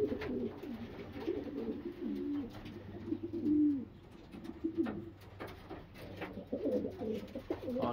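Racing homer pigeons in a loft cooing, low throaty rolling coos repeating steadily and fairly close, with faint rustling and movement around them.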